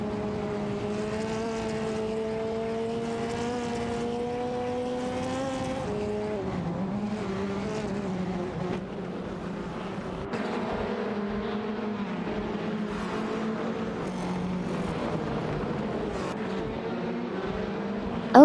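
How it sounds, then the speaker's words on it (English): Touring race cars, including an Alfa Romeo Giulietta TCR and a Ford Focus RS, in a simulated AI video game race, engines droning and shifting pitch steadily with no pauses. "Okayoki 3, in the Alfa Romeo Giulietta TCR is challenging Mama Hasta, in the Ford Focus RS for the 6th position"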